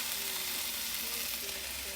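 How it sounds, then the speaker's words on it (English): Cauliflower rice frying in a pan gives a steady, close sizzle with a dense hiss and faint crackle that holds even throughout, with no talk over it. "our cauliflower rice is kind of broken apart from each other and we start to have like a frying sound"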